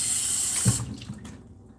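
Tap water running steadily into a container for blending moringa powder, a hissing stream that stops abruptly partway through, leaving faint handling noises afterward.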